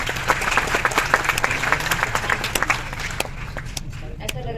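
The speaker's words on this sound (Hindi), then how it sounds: "लग रहा है कि मैं अपने लिए खुद ही तालियां बजवा रही हूँ" An audience at a film screening event claps in scattered, moderately close applause that thins out toward the end, with talking mixed in.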